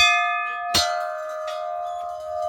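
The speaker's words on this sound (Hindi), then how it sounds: "चलते हैं घंटी बजाते हुए अंदर" A single bell struck at the entrance of the Kandolia temple, a Hindu shrine in Pauri, Uttarakhand: one sharp metallic strike followed by a long, clear ringing tone that sustains and slowly fades, close and alone.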